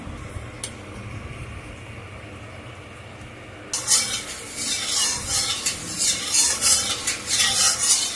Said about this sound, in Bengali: এবার আমি আলুগুলি ভাজবো